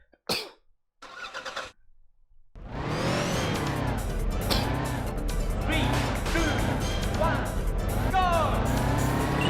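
A Porsche races in the PlayStation game Touge Max 2. A few short sounds come first, then the engine roars in loud, continuous revs that rise and fall.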